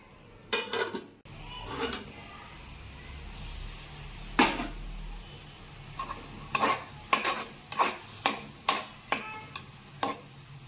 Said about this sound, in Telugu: ఇలా అంతా కలుపుకొని మూత పెట్టుకొని కొద్దిగా మగ్గేంత వరకు ఉంచుకుందాం